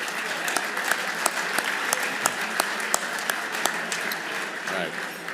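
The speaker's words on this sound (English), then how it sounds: "Please join me in a round of applause for the MAC staff." Banquet guests at the MAC Hermann Trophy dinner applaud the club staff with steady clapping. A few sharper individual claps stand out, and a voice speaks over the applause near the end.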